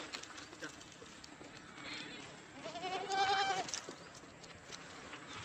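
Goats on a farm bleat once in a clear wavering call near the middle, set against steady outdoor noise with people talking faintly around it.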